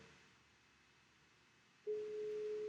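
An outgoing phone call: after a near-silent stretch, a single steady ringback tone starts and holds, faint and alone with no talking.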